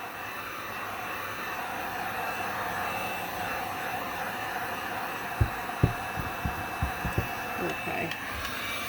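A hair dryer runs continuously with a steady airy hum and hiss while drying a freshly painted piece, with a few soft knocks near the end.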